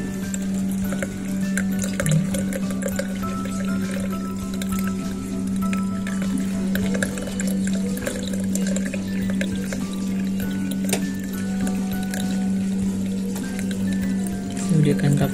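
Water poured through a very fine sieve to strain hatched brine shrimp, a continuous trickling pour under a steady hum, with a person talking over it throughout.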